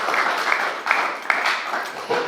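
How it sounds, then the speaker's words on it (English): A short burst of audience applause at a Great Barrington candidates forum, a dense wash of many hands clapping at moderate loudness, with a few sharper individual claps rising out of it. "So round of applause if it's nice to be back in person."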